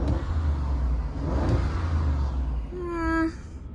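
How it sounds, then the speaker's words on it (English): Car engines revving during a drive of high-powered 2021 Audis, a TT RS, SQ8 and RS6, in the UK: a low rumbling engine drone swells and fades, then a rising rev note climbs sharply near the end at moderate distance. "let those boys finish their revving first."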